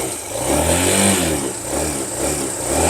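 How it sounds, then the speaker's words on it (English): Small single-cylinder Suzuki VanVan motorcycle engine fitted with a custom stainless steel exhaust, idling in neutral with a soft, even low rumble and a few gentle revs that swell and fall, close by and fairly quiet. "I can talk quite normally over this engine, and it is the exhaust makes it very"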